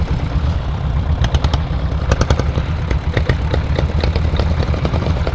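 Diesel Royal Enfield Bullet motorcycles in a group ride of thirteen toward Dhanushkodi, engines thumping steadily and loudly with constant low rumble and wind, close up and without talk.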